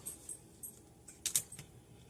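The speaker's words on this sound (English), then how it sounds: "You can hear that crack." Several sharp, brittle cracks and snaps of a frozen homemade candy bar, close and fairly quiet, with a louder double crack near the end.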